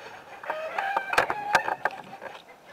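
Backyard chickens squawk and cluck excitedly just outside their coop, several overlapping calls in irregular bursts at moderate distance, with no talking.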